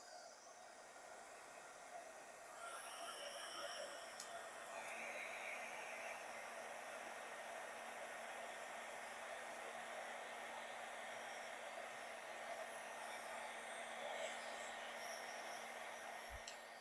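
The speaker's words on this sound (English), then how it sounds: "Turn the shrink wrap tool on to a low setting and get the cap taken care of" A shrink wrap heat tool on a low setting runs steadily while sealing the cap on a wine bottle, a faint, continuous airy hiss and whir with no talk.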